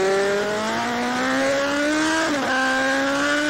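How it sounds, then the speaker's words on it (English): An AMA superbike from the 1980s races along the track, heard from an onboard camera bike as a loud, steady high-pitched engine drone with a brief dip and recovery as it shifts. "share with David Emdy on our number 56 camera bike the sights and sounds of riding a superbike"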